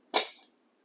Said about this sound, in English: So you gotta push these up until they click in